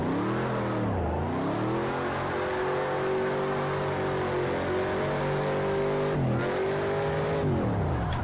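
Racing car engine in a modded driving game, loud and close, with a sustained rev that dips sharply on gear changes or lifts around one and six seconds before climbing again, no talk.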